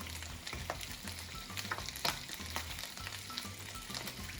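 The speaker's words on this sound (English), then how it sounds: "Then add some red pepper flakes to our garlic and oil mixture" Garlic and red pepper flakes sizzle softly in oil in a pan for spaghetti with garlic and oil, a quiet steady frying hiss with light stirring and no voices.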